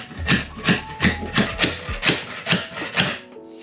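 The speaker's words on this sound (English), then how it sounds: "So I'm gonna try to use this paint scraper to edge it down a little bit" Metal paint scraper rasping against a screw head in a wooden floor inside a tiny home camper, a steady series of about eight close, rhythmic scraping strokes with no talking.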